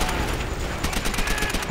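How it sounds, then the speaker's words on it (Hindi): Rapid gunfire from the video game Call of Duty: World at War plays as loud, continuous overlapping bursts of automatic fire with no pauses. "लोग भाई गन से फाइट कर रहे हैं"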